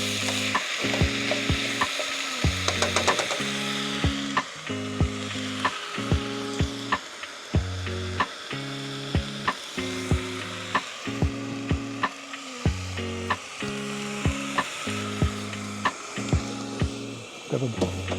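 Mince browns in a pan over a camp cooker, a constant close sizzle broken by regular rhythmic scraping and knocking of a utensil against the pan every second or so.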